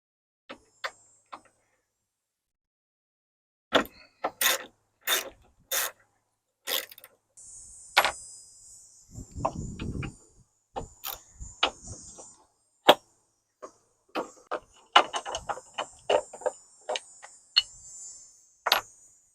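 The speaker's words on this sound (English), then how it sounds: "Now we got to take these 4 bolts out." Bolts are removed from a vehicle's overhead area before an overhead panel is installed: sharp metallic ratchet clicks and taps come in short bursts, with a few brief rasping stretches, close up and otherwise quiet.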